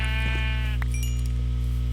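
Sheep bleating in the Minecraft video game, a single short wavering bleat over a steady droning game background, close and distinct with no talk.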